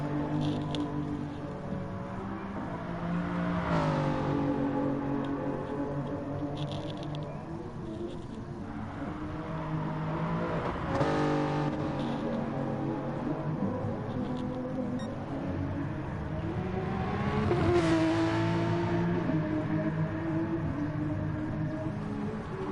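A Toyota endurance race car in a sim racing event pulls out of the pits, its engine a steady layered drone that rises and falls in pitch through gear changes, with other cars' engine notes blended underneath.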